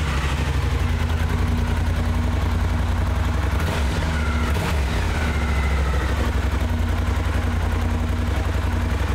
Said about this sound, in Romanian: Hai să o pornim ca să auzim cum se aude. Este evacuarea stock care îndeplinește și normele Euro 5.